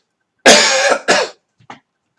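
A single harsh, raspy cough followed by a shorter second cough and a faint throat sound, close up in a quiet room.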